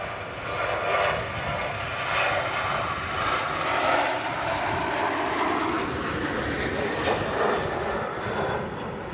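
An airliner's engines roar at Manchester Airport on a gusty day, a broad, sustained rumble that swells and fades slightly over several seconds, with wind noise mixed in and no voices.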